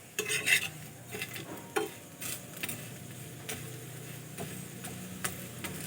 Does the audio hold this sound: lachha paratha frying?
yes